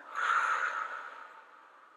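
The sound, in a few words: exhaling breath in breathing exercise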